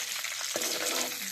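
Grated coconut and garlic fry in hot oil with cumin seeds, a steady close sizzle with occasional stirring scrapes in a home kitchen.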